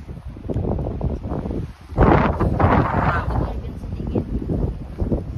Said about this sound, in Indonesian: Berhubung anginnya itu semakin siang semakin kencang